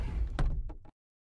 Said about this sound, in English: Open this door.